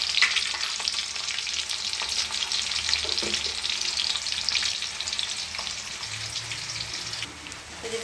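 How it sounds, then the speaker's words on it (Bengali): Cumin seeds crackle in hot oil as a tempering for a home fish curry, a dense, rain-like sizzle that stays loud and steady throughout, close by, with no speech. "দুটো একটু জিরে ফোড়ন দিয়ে দিই"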